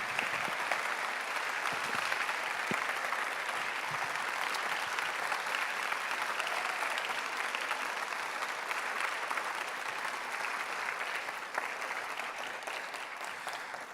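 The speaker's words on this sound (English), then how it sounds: "let's give all of our candidates a round of applause for their attendance today." A large audience applauds candidates at a mayoral forum in Memphis, with steady, dense clapping that holds at an even level for the whole stretch and carries no talk.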